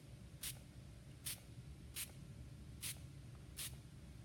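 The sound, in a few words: spray bottle misting ink onto T-shirt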